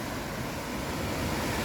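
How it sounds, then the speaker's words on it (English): Water gushing out of a pipe at the foot of a dam at the source of the Bradshaw Brook, a steady, loud broadband rush with some wind noise, close by and without talk. "See a pipe spewing out gallons of water, gallons and gallons."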